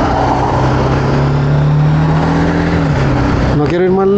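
A BMW G 310 GS motorcycle engine drones at a steady pitch while riding, with a strong wind rush over it; near the end the engine note drops and shifts as the rider changes speed.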